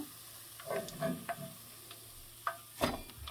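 Chicken veggie pakoras coated with cornflour frying in oil, a quiet sizzle punctuated by scattered ticks and clinks of lifting them out, with a sharper clatter near the end.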